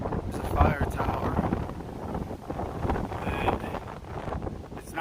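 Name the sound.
strong wind at a mountain fire tower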